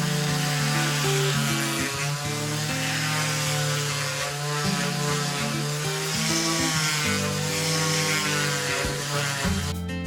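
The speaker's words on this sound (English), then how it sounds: "So I'd like to finish it with a sander." A power sander works a heavy zelkova wood table leg, holding a loud, steady whir with a faint, shifting pitch for the whole stretch, with no talking.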